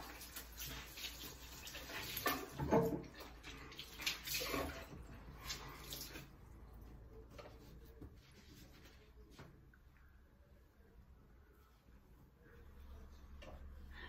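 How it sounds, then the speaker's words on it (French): Running water splashes as a face is rinsed at a sink, loud and gurgling for the first several seconds, then fading to a quieter trickle and faint clinks. "Alors je vais me rincer une troisième fois."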